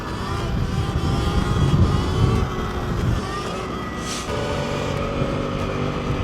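Ultra Bee dirt bike riding on sand dunes, its motor droning steadily with slight rises and dips in pitch, close and continuous under wind.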